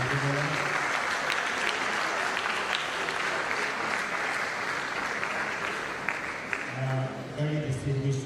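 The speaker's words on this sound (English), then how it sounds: "Can we once again give a round of applause to Professor Adebola?" An inaugural lecture audience applauds Professor Adebola, sustained dense clapping from a large crowd filling the hall, with a voice speaking faintly beneath it near the end.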